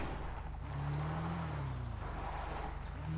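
A motorcycle engine hums steadily as the bike is ridden in the GTA V video game, a low continuous drone with a slight rise in pitch mid-way, no talking over it.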